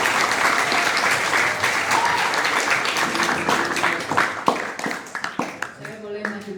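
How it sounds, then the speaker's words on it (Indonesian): An audience at a school visit by a sub-district head gives a steady round of applause that thins into scattered, separate claps near the end, with voices talking underneath. "Tepuk tangan untuk Bu Heni."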